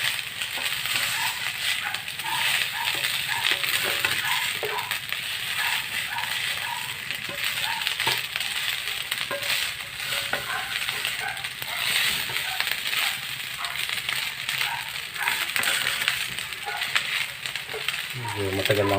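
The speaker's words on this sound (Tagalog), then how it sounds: "Matagal lang po magluto ng fried rice." Garlic fried rice with a little syrup is stirred and scraped in a pan. Steady frying sizzle runs throughout, broken by rhythmic metallic scraping and clinks of the utensil, with faint speech now and then.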